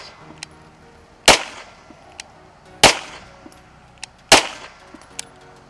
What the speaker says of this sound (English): Five shots.